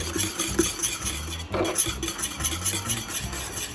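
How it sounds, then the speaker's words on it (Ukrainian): A spoon or whisk stirs butter into a lemon curd mixture in a pot, giving a steady scraping and swishing with light metallic clinks, close and continuous, with no talking. "Додаю масло і продовжую вимішувати до тих пір, поки масло повністю не розчиниться в нашій суміші"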